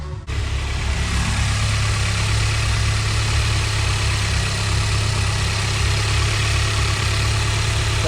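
A VW MK7.5 GTI engine, just fitted with upgraded high-pressure fuel pump internals, cranks and starts, then settles into a steady, loud idle.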